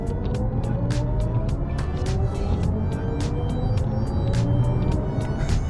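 Hans Zimmer-composed electric drive sound of a 2025 BMW i5 under throttle, a sustained synthetic hum with slowly rising tones, dotted with sharp clicks over steady road noise.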